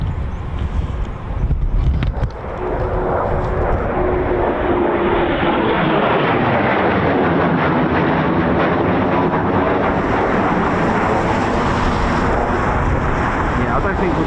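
Eurofighter Typhoon FGR4 jets arrive at RAF Coningsby in a loud, sustained roar that swells and stays broad and heavy for the whole stretch, close overhead, with some talk mixed in.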